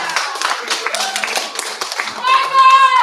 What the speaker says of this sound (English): Show of hands by cheers and applause.